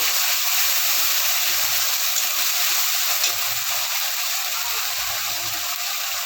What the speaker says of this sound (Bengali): ভালো করে নেড়ে চেড়ে ভাজা করে নেব।